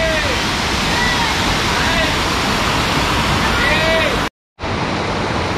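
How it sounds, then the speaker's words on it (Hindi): Jatmai waterfall in Gariyaband running in flood, a loud, steady, broadband roar of crashing water filling the whole clip, with a brief dropout near the end before the rush resumes. "ये देखिए वाटरफॉल कन्वर्ट हो गया।"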